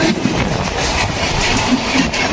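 The Howrah Doon Express passes alongside a local train, producing loud, continuous rumbling with rhythmic clickety-clack from the wheels, close by and without pauses.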